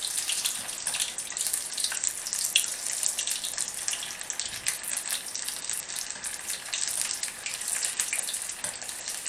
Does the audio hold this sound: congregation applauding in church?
no